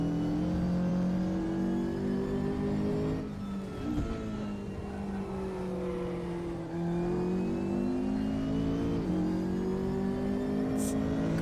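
A racing car in the RaceRoom video game revs up and down across the gears, a strong, continuous engine whine with rising and falling pitch sweeps, heard alone without speech.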